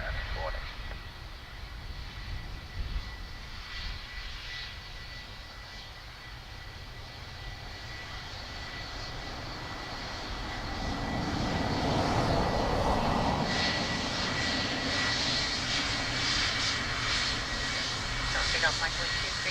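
Aircraft engines roar steadily at Dublin Airport, swelling louder midway as a plane passes, with radio chatter and voices under the continuous drone.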